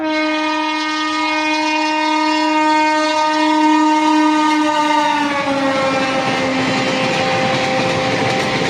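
The Somnath Express passenger train passes close by at night, its horn blaring a sustained tone that drops in pitch as it goes, over the rumble of wheels and carriages.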